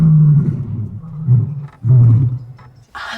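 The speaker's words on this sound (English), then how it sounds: "We're just holding back and waiting for Klaus to roar." A male lion roars up close in a wildlife park, a series of deep, loud, grunting moans in uneven bursts with brief pauses between them, heard alone with no talk.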